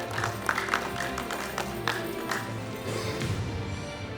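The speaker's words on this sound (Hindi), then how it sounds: "तालियां" Audience at an award ceremony applauding, a fairly faint wash of clapping and crowd noise that holds steady for several seconds with a few brief louder bursts.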